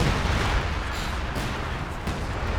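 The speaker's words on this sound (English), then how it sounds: "called it an artillery barrage right there" Artillery barrage in the World War II strategy game Company of Heroes 2, a dense continuous rumble of booms and distant shell impacts rolling on steadily, loud and unbroken, with no talk.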